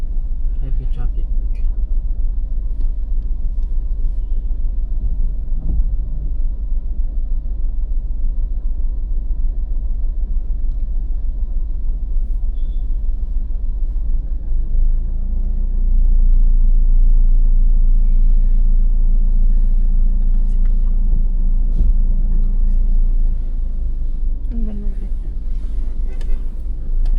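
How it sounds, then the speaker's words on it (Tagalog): Heavy road traffic rumble inside a Montero Sport GLX SUV, a constant low drone with wind noise and a louder swell midway, with a voice speaking occasionally over it. "Heavy traffic."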